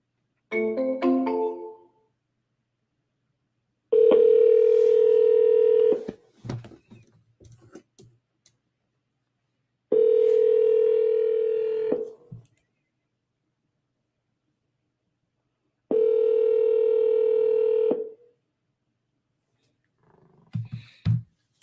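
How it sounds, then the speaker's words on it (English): An outgoing phone call rings unanswered: three long, even ringback tones, each about two seconds with pauses between, alongside brief bits of muffled sound. "Looks like he's not going to pick up the phone."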